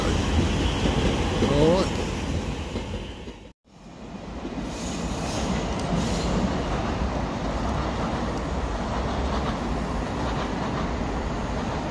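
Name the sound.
passing train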